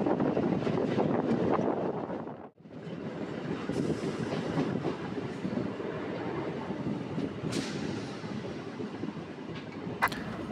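A local train on the Howrah–Tarakeswar line pulls into Kaikala station with a steady, loud rumble of wheels and carriage noise, a brief dip near the start, then continuous rolling and rattling with a few sharp squeaks near the end.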